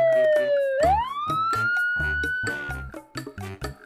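A cartoon ambulance siren wails loudly, its tone sliding down and then rising again, over a choppy, rhythmic backing of beats.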